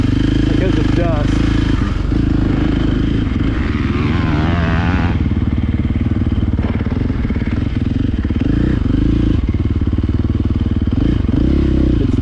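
A 2022 KTM 450 SX-F Factory Edition dirt bike ridden on a hard-packed motocross track, its engine roaring loud and close with rising and falling revs throughout while a rider talks over it.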